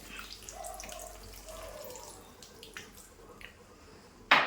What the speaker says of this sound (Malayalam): പിന്നെ നമ്മൾ എടുത്തു വെച്ചിരിക്കുന്ന പുളി വെള്ളം ഒഴിച്ചു കൊടുക്കാം